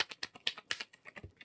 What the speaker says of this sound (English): I need to shuffle this deck